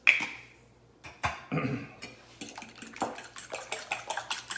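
French toast egg mixture being whisked in a bowl, with a clink of utensil on the dish at the start, then a quick series of soft sloshing, tapping strokes that grow steadier toward the end.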